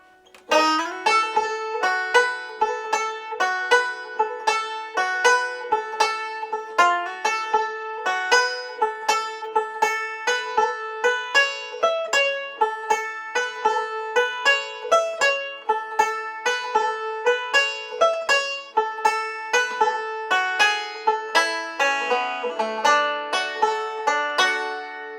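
A plucked banjo plays a brisk, bright melody of rapid picked notes in a steady rhythm, the first part of the fiddle tune Ragtime Annie, unaccompanied and close.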